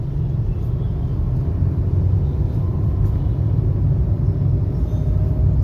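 A car rolls along steadily during a driving lesson, with a continuous low engine and road rumble, close and even, without any clear voices.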